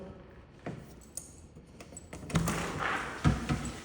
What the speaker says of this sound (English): So I'm gonna open the front door just so you can look out the front door.